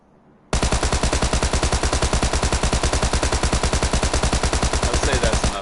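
Sustained automatic gunfire rattles in a rapid, even burst lasting several seconds in the PUBG video game, loud and close with no pauses.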